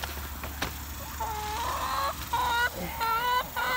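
Chickens cluck and squawk close by in a run of short, rising calls with brief gaps, over a low background hum.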